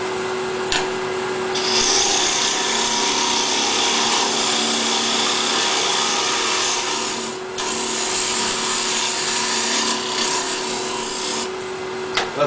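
A wood lathe roughs out a bowl at about 2,000 RPM: a steady, loud scraping rasp of the cutting tool on spinning wood over a constant motor hum, with a few brief dips where the cut lifts off.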